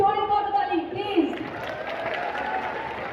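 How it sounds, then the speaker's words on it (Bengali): Audience applause at a staged live event, a steady wash of clapping that swells after a brief voice and holds at moderate loudness to the end. "তো আমার অডিয়েন্সের জন্য সবাইকে জোরে করতালি প্লিজ।"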